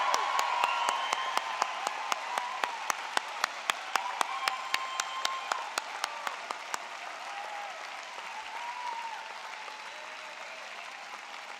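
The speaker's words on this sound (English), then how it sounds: "So I'm going to ask everyone to give this group a wonderful, loud applause." Loud, dense audience applause at a medical school spring commencement, a crowd of many hands clapping steadily with sharp individual claps early on, then thinning into a softer, sustained patter.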